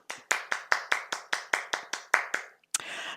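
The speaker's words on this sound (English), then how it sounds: "Let me just clap." One person claps alone, about eleven crisp, sharp hand claps in a steady even rhythm, close and distinct against silence, followed after a short pause by a brief noisy burst.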